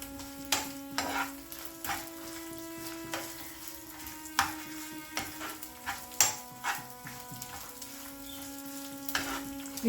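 Sesame seeds roast in a pan for Andhra-style tamarind coconut chutney, with a soft continuous sizzle under a steady hum and irregular sharp scrapes and clinks from stirring.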